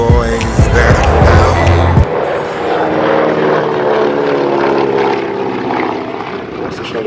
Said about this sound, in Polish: Klasycznego samolotu dwusilnikowego, jakim jest właśnie ten Beechcraft.